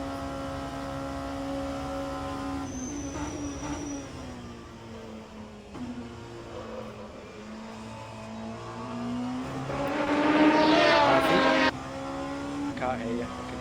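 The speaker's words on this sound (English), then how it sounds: "I can hear the cars." Race car engines at a 24-hour endurance race at Le Mans drone and rev steadily, swelling louder as cars pass, with voices talking over the engine noise throughout.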